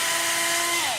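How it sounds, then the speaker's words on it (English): A handheld power drill bores through a rail piece for a quad lug build, a steady high whine that drops in pitch near the end as the motor loads up, close and loud. "I've drilled about halfway through now."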